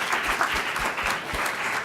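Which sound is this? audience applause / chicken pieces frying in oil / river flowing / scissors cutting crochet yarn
audience applause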